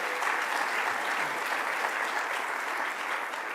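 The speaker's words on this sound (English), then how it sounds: "Let's give a round of applause to Commissioner Jackie Bray." Audience applause at a press event where Governor Kathy Hochul announces a new Office of Resilient Homes and Communities, greeting Commissioner Jackie Bray; dense, steady clapping from a crowd fills the whole stretch at even loudness.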